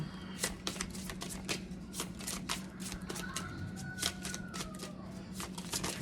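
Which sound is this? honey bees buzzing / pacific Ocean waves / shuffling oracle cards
shuffling oracle cards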